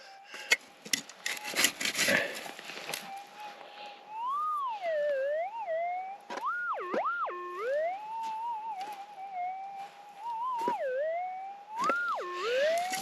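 A metal detector with a Coiltek Goldhawk 10 x 5 coil emits a wavering, sliding electronic warble that rises and falls repeatedly, with scraping and clicking noises at the start.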